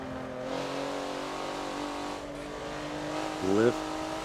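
A race car engine in the video game Forza winds out in third gear at Road Atlanta, a steady mid-level drone with a rising whine, a louder snarl near the end, and someone talking over it.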